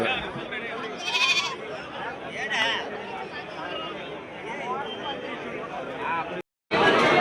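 Young goats bleat repeatedly amid a busy crowd, with constant chatter and talking all around at the noisy outdoor Karavalli goat market.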